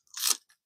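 A single crisp crunch of fresh lettuce being bitten and chewed at a family meal, short and close, with no talking.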